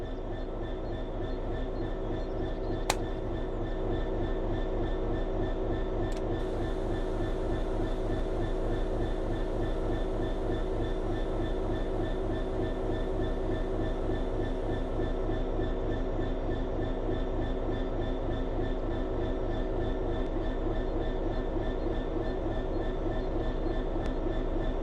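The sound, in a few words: diesel locomotive accelerating in Train Sim World 5 video game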